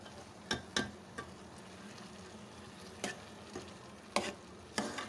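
Boiled lentils fry with beef shami kebab masala in a pan, a soft sizzle under sharp, irregular scrapes and knocks of a spoon stirring against the pot, close and without talk.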